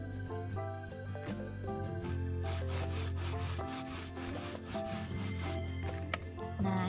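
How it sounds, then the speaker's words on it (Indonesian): Washed coconut is grated by hand against a grater, giving a continuous close rasping scrape with repeated strokes over a busy, tonal background. "Ini kelapa yang udah kita cuci tadi. Terus kita haluskan seperti singkong tadi."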